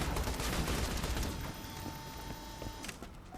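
Rapid automatic sentry turret gunfire from a video game sounds in a dense, loud burst that tapers into scattered shots and mechanical whirring as it fades.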